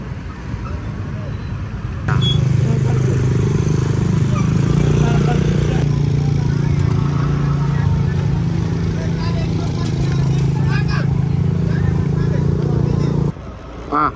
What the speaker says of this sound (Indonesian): Ini dia parkiran sudah ramai.